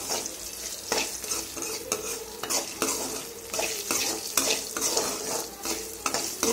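Garlic sizzles in a pan as it browns for mint chutney, under steady frying crackle and repeated scraping strokes of a spoon stirring against the metal.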